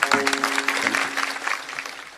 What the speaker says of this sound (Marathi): टाळ्या वाजवा त्यांना एकदा